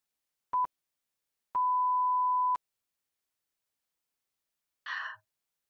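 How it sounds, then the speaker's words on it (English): A sensor sounds as a pure electronic beep, first a short chirp and then a steady tone lasting about a second, followed by quiet and a brief faint noise near the end. "There's also a sensor beep too."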